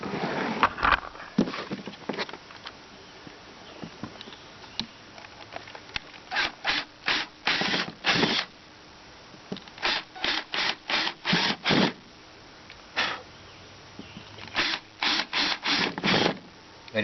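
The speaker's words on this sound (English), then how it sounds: "now I'm about to cut out the wall outlet" A wall outlet hole is cut by hand into an RV wall, and a small Leatherman blade may be in use. It gives a close, rasping sawing sound in short bursts that become a quick, rhythmic run of strokes separated by brief pauses.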